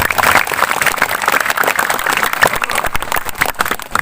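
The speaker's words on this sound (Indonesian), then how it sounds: "Tepuk tangan lagi ya," Audience applause at an evening Isra Mi'raj religious gathering, a dense run of clapping that stays loud and steady throughout, with no talk over it.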